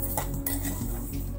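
A spatula scraping and clinking against a pan as korte (niger) seeds dry-roast for chutney, a steady close run of light metallic taps and rustles with no talk.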